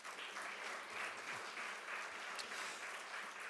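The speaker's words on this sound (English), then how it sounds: "So keep clapping" Applause from the audience at a live award ceremony, the 2026 Izzy Award, a steady wash of many hands clapping that holds at an even, moderate level throughout, without talk over it.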